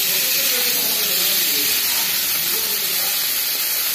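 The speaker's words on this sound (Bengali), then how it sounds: "শুটকি মাছগুলো ভাজা হচ্ছে।" Dried fish (shutki) frying in a pan makes a loud, dense, continuous hiss that stays even from start to finish, close up and with no voices.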